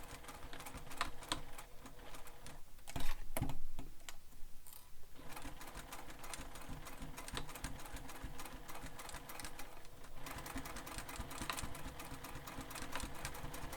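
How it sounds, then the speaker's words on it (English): A sewing machine back stitches across fabric for a sling pack, a close, continuous fast mechanical whirr and tapping with a short pause partway through. "And then I'll back stitch here."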